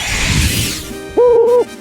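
Cry of Owla, an owl creature in the Manamon video game, is a short, loud, tonal hoot lasting under half a second that follows a burst of noisy whooshing.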